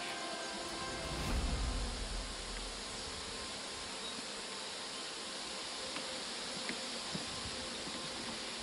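A steady, dense buzzing of many honeybees swarming nearby around a hive, continuous and even throughout with a faint low rumble underneath.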